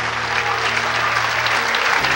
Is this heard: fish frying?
no